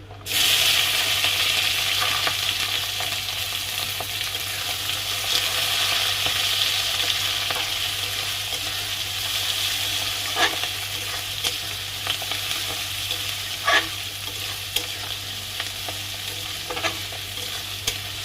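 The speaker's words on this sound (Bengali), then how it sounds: "পেঁয়াজটা ভাজা ভাজা হলে তারপরে বাদবাকি মশলাগুলো দিয়ে দেবো" Onions frying in a pan with cumin seeds, giving a steady, close sizzle with occasional stirring scrapes and no voices.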